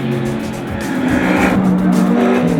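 Mercedes-Benz SLS AMG GT3 race car with a front-mounted 6.3 litre V8 AMG engine, loud and close, a sustained droning engine note with a rising tonal pitch and slight tyre-squeal texture throughout.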